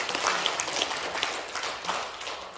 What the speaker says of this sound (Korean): 박수가 안 치는가?